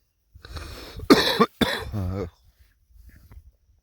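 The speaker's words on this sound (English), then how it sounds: "That's a smoker's cough." A harsh, hacking smoker's cough bursts out in a few rough spasms up close at a winter campsite, then trails off into quieter throat noises.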